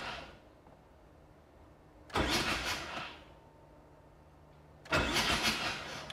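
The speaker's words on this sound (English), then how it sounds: "I'm gonna hit the starter a few times since it's been sitting forever" An old engine that has been sitting unused for a long time is cranked by its starter motor in two separate bursts of about a second each, with quiet pauses before and between them.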